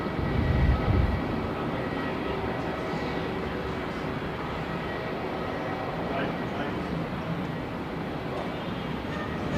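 A Qantas airliner departs from an intersection on runway 34 at Melbourne Airport, its jet engines a broad, steady roar heard from a distance, with a brief louder rumble at the start.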